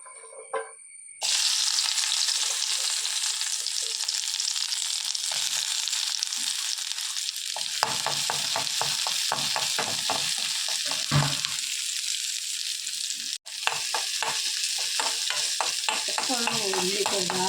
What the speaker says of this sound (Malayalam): അപ്പോൾ ഉള്ളി ഇതാ ചെറുതായിട്ട് അരിഞ്ഞുകൊണ്ട് ഇനി ഇത് ഇതിലേക്കിട്ട് മൂപ്പിച്ചെടുക്കുക